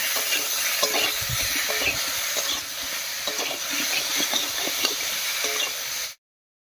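Frying pieces of taro root in a pan being stirred together with turmeric, salt and chili paste, a continuous loud sizzle with repeated scraping strokes, ending abruptly after about six seconds.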